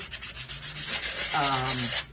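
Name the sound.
diamond sanding pad on ceramic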